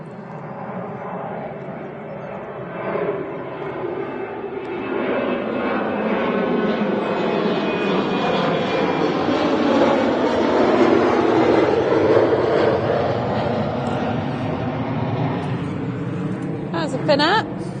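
A Finnair airliner at Manchester Airport swells into a loud, close jet roar that builds and then holds, a broad rushing noise with talk heard over it.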